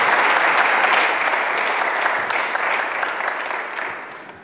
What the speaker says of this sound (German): Einen herzlichen Applaus bitte.